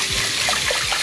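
Water swishes and trickles over rice grains being rinsed in a bowl for kimchi jjigae, a close, steady wet sloshing with a few brief splashes.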